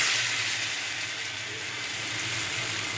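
Pumpkin leaf fritters fry in hot oil with a steady, close sizzling hiss that holds evenly throughout, with no talking.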